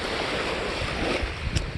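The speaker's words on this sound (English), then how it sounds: "And of course these waves, which is crazy." Lake waves wash and splash continuously with a steady rushing hiss, and a sharper splash near the end, while wind blows across the microphone.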